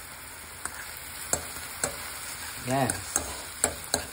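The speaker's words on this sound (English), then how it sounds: "I have my steakums cooking." Steak-ums frying in a pan during a stuffed biscuit recipe, a steady broadband sizzle broken by sharp utensil scrapes and taps at irregular intervals, with one short spoken remark rising briefly over the cooking.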